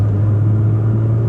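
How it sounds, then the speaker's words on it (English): A BMW E36 3 Series engine pulls hard after a downshift, a loud, steady low rumble heard from inside the car, with no talking. "when you put the foot down and drop a gear, she goes quite well."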